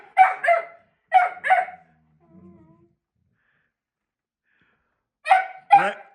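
A Belgian Malinois puppy hiccups in quick close pairs, three sharp little pairs of jerky yips with a quiet pause before the last pair, heard close and alone.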